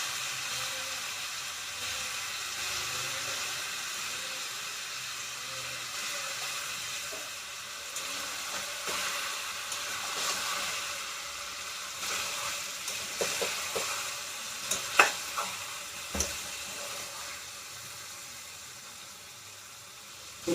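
Green chilli, ginger and garlic paste frying in a pan for spicy Bengali mutton kosha, a steady soft sizzle with a few sharper crackles and spits midway.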